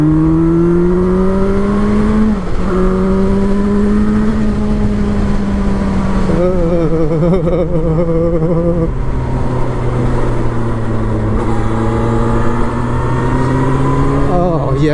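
A 2025 Benda LFC700 cruiser motorcycle engine revs up and pulls hard around a bend, a loud steady drone with shifting pitch and a gear-change dip, with wind rush throughout.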